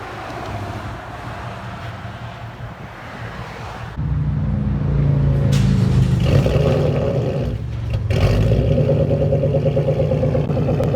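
A Ford Mustang 5.0L V8 with straight pipes idles with a rough, throbbing burble, then jumps into louder revving with fluctuating blips, close and dominant throughout.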